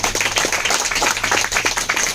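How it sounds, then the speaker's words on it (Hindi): An audience breaks into sustained clapping at an indoor business event, with a dense, even patter of many hands throughout and no voices over it. "और सागर सर के लिए जोरदार ताली हो जाए."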